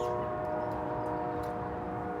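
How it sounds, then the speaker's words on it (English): A train passes in the background near a hillside park at a Civil War fort site, giving a steady low rumble with sustained horn-like tones throughout, distant and unbroken. "you can hear a train in the background"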